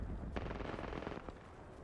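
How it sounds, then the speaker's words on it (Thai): Gunfire in Apex Legends, a rapid burst of sharp shots with a couple of stronger cracks, fairly faint and distant over a steady noisy background. "ยิงกันตรงไหนวะ นอกวงเหรอ"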